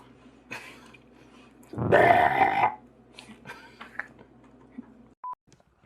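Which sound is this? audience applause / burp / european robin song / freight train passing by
burp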